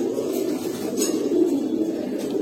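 High flyer pigeons of an old breed keep up a steady, throaty cooing murmur, close and continuous, with a faint clink or two in the background and no talking.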